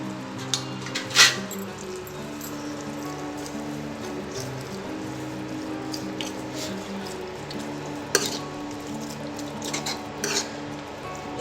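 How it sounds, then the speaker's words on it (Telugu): Ground bottle gourd chutney being stirred into a frying tempering in a pan, with scraping and clinking of a utensil against the pot over a low steady background, a few sharper metal knocks standing out. "తాలింపు ఫ్రై అయిన తర్వాత ముందుగా నూరుకున్న సొరకాయ పచ్చడి వేసుకోవాలి."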